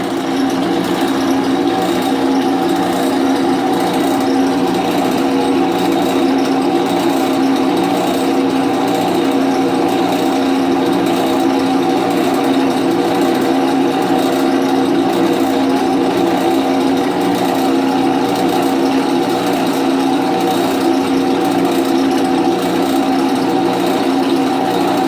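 Power drill boring steadily through aluminum for a fastener repair, a continuous loud whining motor hum held without pause for the whole stretch, no talk over it.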